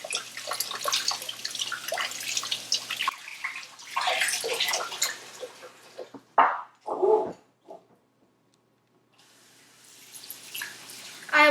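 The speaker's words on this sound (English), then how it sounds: "Now we're going to discard the water and rinse the ox bones." Hot water poured out of a pot and ox bones rinsed under a tap, splashing and running water in uneven bursts, close by, with short clattering sloshes and brief pauses of near silence.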